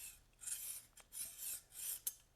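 A Bridge City Tool Works combination square, model CS-6V2-M or CS-12V2-M, slides along its rule in three short rasping strokes, each with a faint click, quiet and close with no voices.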